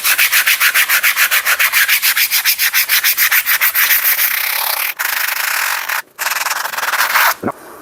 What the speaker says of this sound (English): scuff it up with 80 grit to see